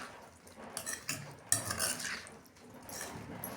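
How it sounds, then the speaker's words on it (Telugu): A spoon stirring vegetable pickle with coriander powder and spices in a pot, close scraping and clinking metal strokes in an irregular rhythm, fairly quiet, with no talk. "ఇప్పుడు వీటిని మళ్ళీ ఇలా కలుపుకుందామండి"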